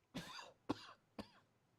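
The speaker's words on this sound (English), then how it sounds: "did you actually just cough?" Three short, dry coughs come in an even rhythm about half a second apart, close by and quiet, each a sharp burst that trails off quickly.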